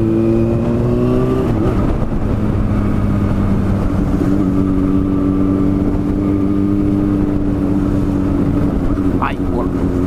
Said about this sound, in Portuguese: Eita, queimada de embreagem bonita.